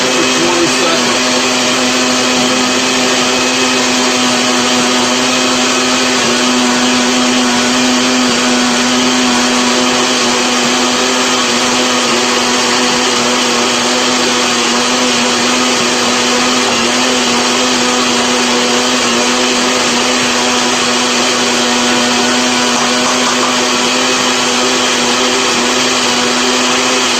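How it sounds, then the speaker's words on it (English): Blender whirring steadily for keto noodle batter with half a teaspoon of xanthan gum added slowly, a loud continuous motor hum with no talking over it. "You're going to blend that for 20 seconds."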